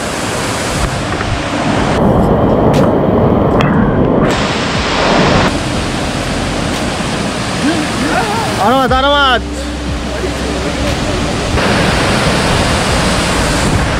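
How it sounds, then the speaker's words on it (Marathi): Heavy monsoon rain swells a forceful stream on the Tahuli Peak trail, a loud, continuous roaring rush of water that fills the whole clip, with a voice speaking briefly over it. "पण आता पाऊस एवढा वाढलाय, पाण्याचा फोर्स बघा."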